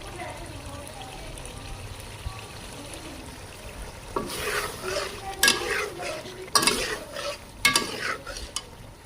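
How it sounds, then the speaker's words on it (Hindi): Chicken karahi stir-fried over high heat makes a continuous sizzle. Loud scraping stirs with a metal utensil against the pan come in bursts after the first few seconds, and a voice speaks faintly beneath them. "तो अब हम इसे ऐसे ही भूनेंगे अच्छे से। पहले हमने आग हल्की की थी, अब हमने तेज़ कर दिया।"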